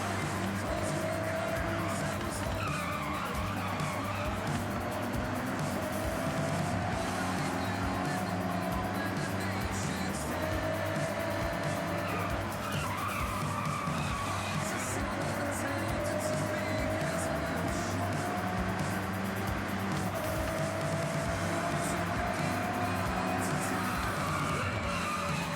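An American car's engine drones continuously in the Forza Horizon 6 racing game, rising and falling in pitch as it revs through gear changes, with faint tire noise over a long stretch.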